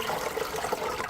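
Water pours into a steamer pot for a vegan steamed cheese recipe, a short continuous splashing rush.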